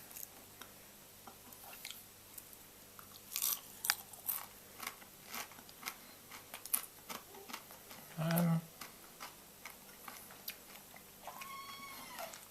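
A crunchy dehydrated grasshopper is bitten and chewed up close, giving a series of sharp dry crackles and crunches in an irregular rhythm against a quiet background.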